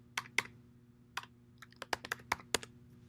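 Someone types a file path on a Mac keyboard: quiet, irregular key clicks in short bursts over a low background hum.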